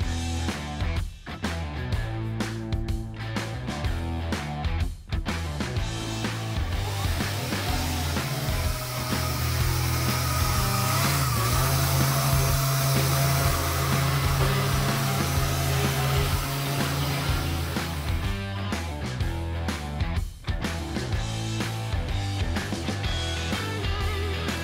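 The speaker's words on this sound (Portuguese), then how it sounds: "Agora o Tiluca tá terminando de lixar ali a parte do spoiler." Power sander working over the spoiler of a custom car build, a continuous loud whirring drone holding nearly unbroken throughout, with small dips as the tool shifts on the panel.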